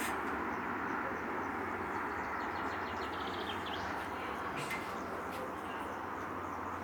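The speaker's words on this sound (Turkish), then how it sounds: "Şöyle çekeyim kuş sesleri cıvıl cıvıl ne kadar güzel" Village birds chirping outdoors, with light twittering calls and cooing pigeons over a constant steady background hum; no one speaks.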